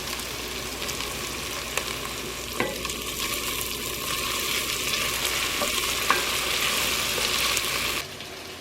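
Softened vegetables cook down in a soup pot, a steady close sizzle and crackle with occasional light clicks of a spoon stirring, continuous before cutting off abruptly near the end.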